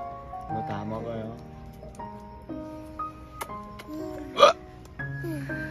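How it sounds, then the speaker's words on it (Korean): A man hiccups several times in sharp, abrupt bursts at a winter seaside campground inside a tent, with one loud hiccup standing out, while people talk around him. "아빠가 딸꾹질은 이상해"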